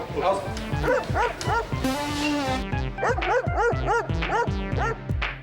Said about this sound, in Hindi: ये कुत्ते के भौंकने की आवाज कहाँ से आई?